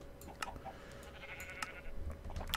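Penned sheep in the Minecraft video game bleat in brief, faint calls over a soft background, a few scattered bleats with no talking.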